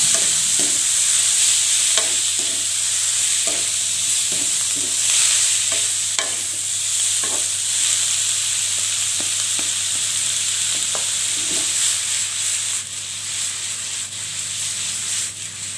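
Half a kilo of clams fry in a pan while being stirred and spread, a steady loud sizzle under repeated scraping and rubbing strokes.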